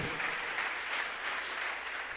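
A church congregation claps together in a dense, steady burst of applause, loud and continuous with no pause, filling the room throughout.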